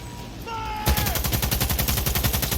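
Rapid automatic gunfire in the video game Cyberpunk, a loud sustained burst of evenly spaced shots following a brief electronic tone.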